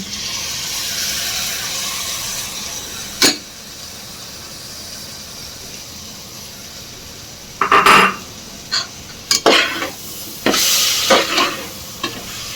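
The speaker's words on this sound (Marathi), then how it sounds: "तांदूळ आणि सगळ्या भाज्या 2 मिनिटासाठी चांगल्या परतवू." Rice and vegetables, including potato, stir-fried in a pan for spiced masala rice: a steady low sizzle broken by several scraping, clattering spatula strokes against the pan, close and clear.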